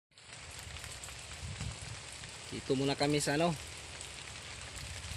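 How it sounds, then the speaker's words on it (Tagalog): Steady rain pours down outdoors, a broad hiss throughout with a person speaking briefly over it midway. "Biglang umulan."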